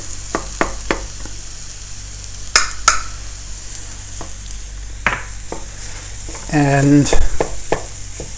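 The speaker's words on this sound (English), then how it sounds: "Let me just chop it up a little bit" Scrambled egg chopped in a frying pan with cauliflower rice, scallions and shrimp: a string of sharp utensil taps and scrapes against the pan over a low sizzle, with a brief word spoken and a clatter near the end.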